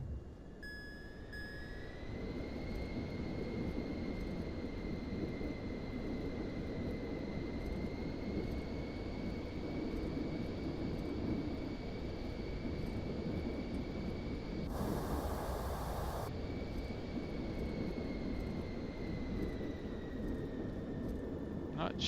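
Simulated aircraft engine whining steadily while taxiing in Microsoft Flight Simulator 2024, a constant close turbine drone with a high tone, briefly interrupted by a burst of static hiss.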